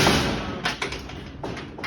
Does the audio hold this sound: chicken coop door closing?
yes